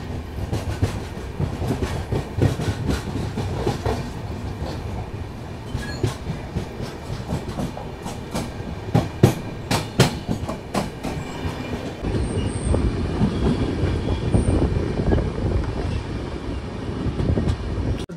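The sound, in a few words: Hubballi Bengaluru Jan Shatabdi Express train running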